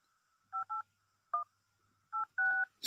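Telephone keypad tones dial a phone number live at a Woking charity sleep-out event: five short, clear dual-tone beeps in an irregular rhythm, with brief pauses between them in a quiet room.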